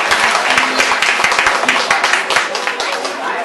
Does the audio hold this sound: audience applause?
yes